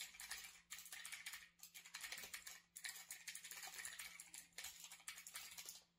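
Fast typing on a Logitech G512 computer keyboard, dense bursts of crisp clicking keystrokes with brief pauses between runs, close and clear over a faint electrical hum.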